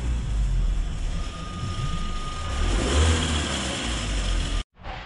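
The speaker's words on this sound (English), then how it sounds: "the noise increases with engine RPM as well" A VW 1.4 TSI (CAXA) engine with a jumped timing chain revs steadily with a continuous mechanical whine and rattle from the chain running through it, rising with RPM, loud and close, then cuts off abruptly near the end.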